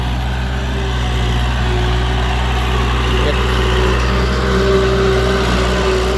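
A used Kubota L5018 tractor with about 1,400 working hours idles close by, its engine giving a steady, even rumble that stays constant throughout.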